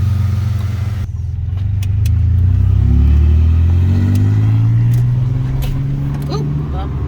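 A Ford Mustang's engine hums and rises in pitch as the car speeds up, loud and close, with some rattling in the background.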